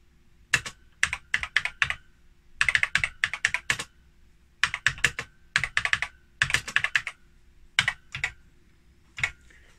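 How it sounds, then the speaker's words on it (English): Typing on an Acorn Electron computer keyboard from 1985, bursts of quick clicky keystrokes separated by short pauses, close and clear with no voices. "So if you type in at a decent speed, it struggles to keep up."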